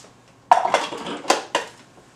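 Sauce for beef tamales stirred in a bowl, a utensil clinking and scraping against the dish in a few sharp, close strikes after a quiet start.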